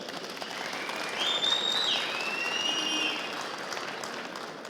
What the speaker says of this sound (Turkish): etraftan şöyle büyük bir alkış alalım.